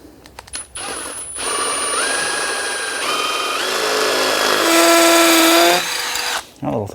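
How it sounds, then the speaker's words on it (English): A power drill bores holes for a Twin Busch scissor lift ramp installation, its loud motor whine climbing and dropping in pitch across several seconds before cutting out, with brief quiet gaps at the start and end. "Okay, so now I'm going to drill"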